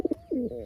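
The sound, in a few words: captured pigeon cooing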